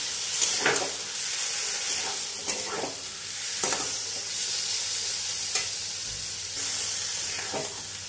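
Okra and potato sizzle steadily in a pan as green chili poppy seed paste goes in, with a few soft stirring scrapes over a constant frying hiss.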